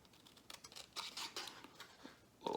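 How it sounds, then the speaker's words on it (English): Scissors snip through paper in a quick series of short crisp cuts, quiet and close, with small rustles between strokes. "And now in the middle of your paper, we're gonna cut"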